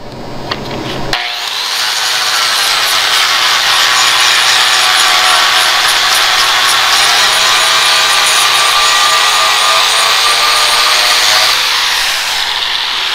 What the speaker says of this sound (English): Now this is an Alumimum cut disc.